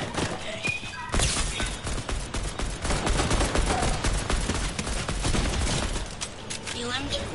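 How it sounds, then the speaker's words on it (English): Rapid bursts of video game gunfire from marauders crackle loud and near in dense, continuous volleys, with a voice talking faintly under the shooting. "Oh, it was marauders that were shooting at them."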